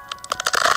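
Bones snapping in the video game Block Story, heard as a short, loud run of brittle crunches and cracks that thicken into a dense crackle toward the end, alone and close.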